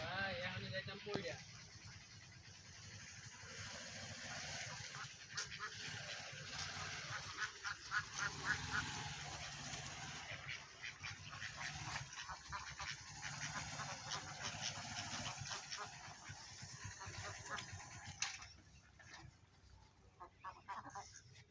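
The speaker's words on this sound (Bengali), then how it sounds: "ওই যে আমাদের হাঁস" Domestic ducks quack and honk near a rough rural road by a fruit orchard. Their calls are steady and moderately near, under continuous background noise and people talking.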